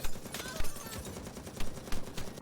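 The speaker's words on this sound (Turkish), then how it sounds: "Aha bir silah sesi galiba." Gunfire in the video game XIII Remake (2020): several sharp shots crack out in quick, uneven bursts over a busy, noisy game background.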